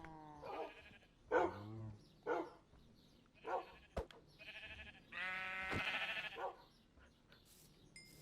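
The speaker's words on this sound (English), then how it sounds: "That is such an unlucky spawn for that sheep." Sheep in a VR video game let out a series of bleats, several separate calls spaced a second or so apart, with one longer wavering bleat near the end, fairly quiet and with no talk over them.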